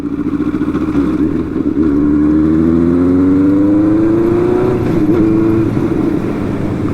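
A Benelli 600i inline-four motorcycle engine revs steadily upward in pitch, a smooth rising whine that holds loud and close, then drops briefly and settles back.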